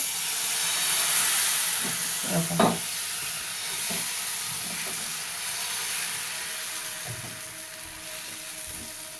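Gram flour batter for ghavane, poured onto a hot pan, gives a steady sizzling hiss that runs throughout, with a few soft clinks and taps near the start.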